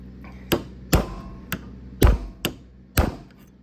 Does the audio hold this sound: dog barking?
no